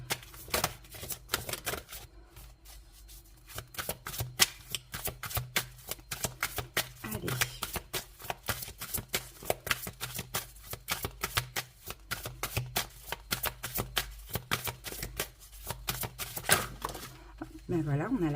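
Tarot cards being shuffled, a continuous dense riffling and flicking of card stock up close that runs throughout, with a faint voice now and then.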